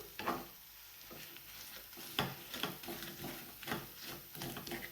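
A spoon stirs onion, tomato and egg bhurji in a hot pan, with soft sizzling and irregular scraping strokes repeating close by at a quiet level.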